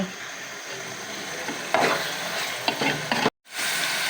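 Lentils and whole green chilies fry in ghee with a steady sizzle, while a spoon scrapes and stirs through them in bursts. A brief silent gap breaks the sound before the frying picks up again.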